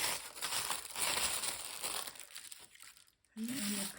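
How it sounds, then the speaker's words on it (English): Ordinary tissue paper being scrunched and crumpled by hand gives a dense, continuous crackling rustle up close, fading briefly before a short burst of speech. "Scrunch it up and crumple it and lean it."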